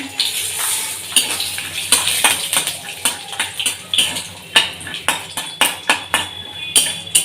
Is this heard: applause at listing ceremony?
no